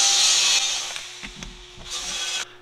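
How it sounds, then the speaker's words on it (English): A saw cuts through a metal drill rig pin in a machine shop, giving a loud, steady hiss that thins out and then swells again before stopping abruptly. "I'm gonna take it over the saw, cut it off"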